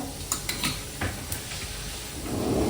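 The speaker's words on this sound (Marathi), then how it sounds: "आता ह्या फक्त असे फ्राय करून घेणार मी" Green chillies and chilli flakes frying in a pan, a steady sizzle with several sharp clinks of a spoon stirring against the metal.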